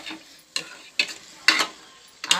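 Spoon scraping and turning mutton coated in masala and ginger paste in a hot pan, village-style curry cooking, with four or five distinct sharp stirring strokes over a soft sizzle.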